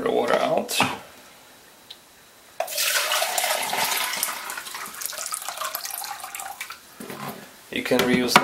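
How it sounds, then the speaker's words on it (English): Water poured out of a cyanotype developing tray in a single broad splashing gush lasting several seconds, following a brief earlier trickle, with a voice talking before and after. "And I'll just pour the water out."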